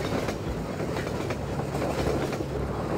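Train cars roll past continuously in a Root Canal video game level, a dense loud rumble with rhythmic clickety-clack of wheels on rails and no speech.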